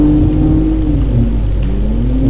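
A car engine in GTA Online drones loud and steady with a sustained mid-pitched rumble and a slowly shifting tone, heard alone without talk.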